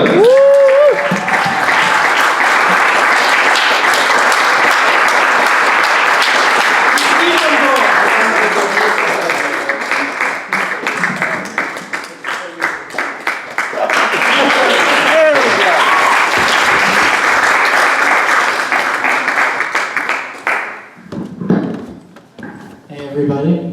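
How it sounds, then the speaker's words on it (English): A comedy club audience claps loudly and continuously for about twenty seconds, swelling and dipping, then fades into scattered claps and voices. "Everybody give a big round of applause for Troy Williams."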